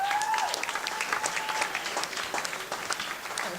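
Wedding guests at a reception applaud the bride, a full burst of many hands clapping, fairly close and loud, with a brief tonal whine at the start and the clapping continuing steadily.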